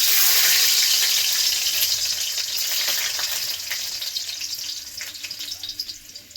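Garlic sizzles in hot refined oil in a wok, a bright continuous hiss that is loudest at first and then softens into crackling spits; no voices.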